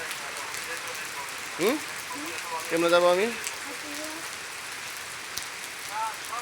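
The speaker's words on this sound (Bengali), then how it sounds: "হ্যাঁ, প্রচুর পরিমাণে বৃষ্টি হচ্ছে, দেখেন অনেক অনেক বৃষ্টি হচ্ছে" Heavy monsoon-style rain pours steadily over flooded streets, a dense constant hiss from nearby, while people talk over it in short bursts.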